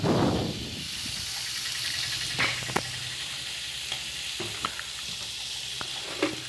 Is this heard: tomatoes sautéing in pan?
yes